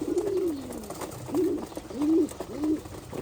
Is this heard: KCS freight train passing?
no